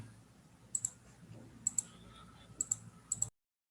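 A computer mouse clicks in quick pairs, four double clicks spaced across a few seconds, crisp and close against a quiet room, with no talking.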